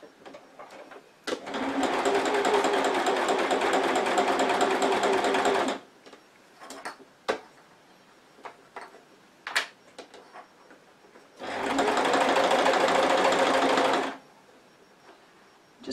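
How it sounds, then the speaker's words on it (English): A sewing machine runs close and loud as it top stitches fabric pleats for a wristlet clutch bag, two long steady bursts of rapid whirring stitches separated by a quiet stretch of small clicks and handling noises. "I'm going to top stitch it about 1/8 of an inch from the raw edge, just to hold those pleats in place."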